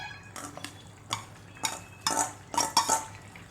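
A spoon scrapes and clinks against a cooking pot as ground paste is stirred into a vegetable curry with carrots, in short repeated strokes at close range with no talking.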